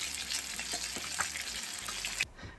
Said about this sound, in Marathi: अश्विनी फ्राय करते आता फिश.